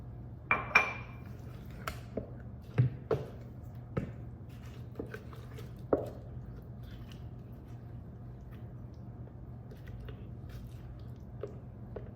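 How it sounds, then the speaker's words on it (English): Açaí bowl mixture scooped into a small bowl, with a few quiet clinks and scrapes of a utensil against the dish that are close and sparse, fading out toward the end. "And now I'm just gonna add it to my little bowl."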